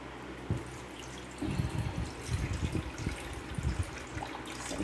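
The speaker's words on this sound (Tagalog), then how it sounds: "ilagay natin ang tubig dito sa" Water poured from a tap or container into a bowl while preparing macaroni salad; soft splashing and dripping starts after a brief pause and continues unevenly at close range.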